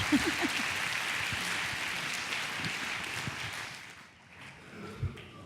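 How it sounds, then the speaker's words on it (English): Audience applause after a business panel session on disruptive models, moderate clapping that holds steady then thins and fades out, with a single louder clap or bump afterward. "Let's have a round of applause again for Wenda and Barish and Lloyd."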